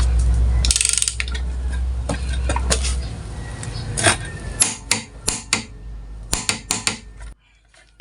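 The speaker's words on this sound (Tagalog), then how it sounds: "At pwede na nating higpitan yung nut ng ating magneto gamit itong ating torque wrench." Torque wrench tightening the magneto nut on a Mio Sporty scooter engine, a series of sharp metallic clicks and ratcheting taps, loud and close, arriving in quick irregular bursts before stopping.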